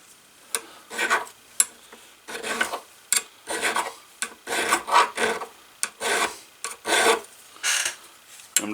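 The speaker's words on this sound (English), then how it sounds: "so I'm going to go back to the bigger file" A bigger file rasps against work clamped for leathercraft in repeated rhythmic strokes, each a short scraping burst with brief pauses between, close and fairly quiet with no talking.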